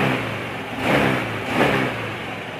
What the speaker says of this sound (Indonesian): Kita tarik gas spontan juga dia nggak kosong ya